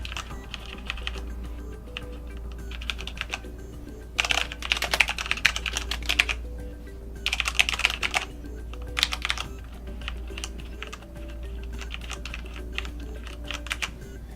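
Typing on a Corsair K70 RGB gaming keyboard with Cherry MX Red switches: steady, close clicking keystrokes with several denser, louder bursts of rapid typing over a low background hum, no voices.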